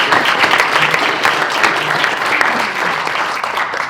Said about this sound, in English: so please give a round of applause for the organizers.